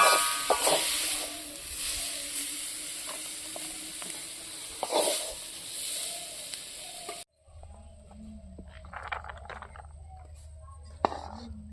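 Jute greens frying on a clay stove, a steady sizzle and hiss with occasional stirring scrapes that cuts out and gives way to quieter clattering and faint background talk.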